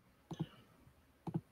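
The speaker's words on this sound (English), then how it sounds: "I don't like that you're typing." Two short pairs of crisp clicks on a computer keyboard, spaced about a second apart, quiet and close with no talk.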